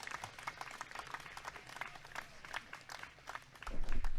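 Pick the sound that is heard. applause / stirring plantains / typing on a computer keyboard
applause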